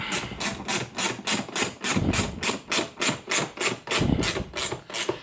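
An Icon ratchet wrench tightening bolts while assembling a Gorilla heavy-duty poly yard dump cart makes a close, loud, evenly paced series of raspy ratcheting bursts, about a dozen in quick succession.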